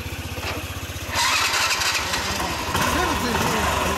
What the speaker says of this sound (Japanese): スーパーカブ90エンジン音をやりますか。